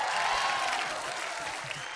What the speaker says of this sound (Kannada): ಜೋರಾಗಿ ಚಪ್ಪಾಳೆ ಬರಲಿ.